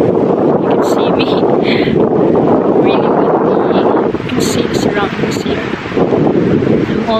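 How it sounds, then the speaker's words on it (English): Strong wind buffets and roars across the microphone in cold weather near Pluscarden Abbey, Morayshire, Scotland, loud and continuous, with faint bursts of higher rustling now and then. "It's cold and it's windy here."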